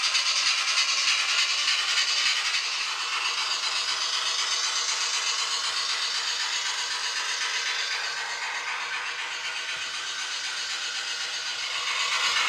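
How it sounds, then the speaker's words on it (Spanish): Continuous whirring hiss of a Fleischmann BR 01 streamlined model steam locomotive's motor running on track with German DSG coaches, a steady near rattle with light clickety-clack, fairly loud and unbroken. "En rodadura se comporta correctamente, tanto en movimientos como prestaciones acompañados del ruido del motor, quizás demasiado elevado para mi gusto."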